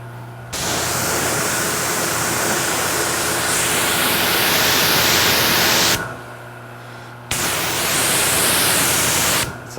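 Pressure washer spraying car wheels, a loud close broadband hiss in two long bursts with a short pause between, no voices.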